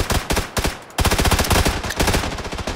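Loud rapid bursts of automatic gunfire in PUBG, a short volley, a brief gap, then a longer run of close, evenly spaced shots with no talking.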